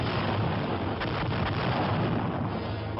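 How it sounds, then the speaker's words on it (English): An artillery barrage opening fire in a WWII infantry setting, heard as a dense, continuous roar of distant rumbling blasts with a few sharper thumps, loud and unbroken, with no voices. "At H-5, the artillery opens up."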